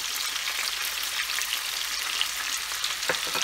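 Chili chicken with capsicum fries and is stirred in a pan for Chicken Manchurian: a constant close hiss of frying with a few soft stirring clicks toward the end, and no talk.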